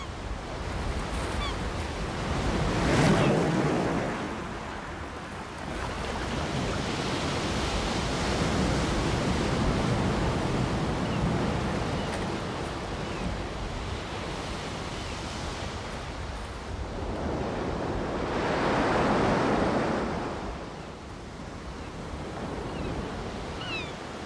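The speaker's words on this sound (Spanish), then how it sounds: "Los frecuentes derrumbamientos nos indican la violencia con la que el mar asalta los acantilados" Sea waves surge and crash against the towering Cliffs of Moher on the Atlantic coast, a continuous loud roaring wash with two bigger breaking swells rising out of the steady surf.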